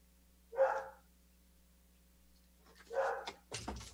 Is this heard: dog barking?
yes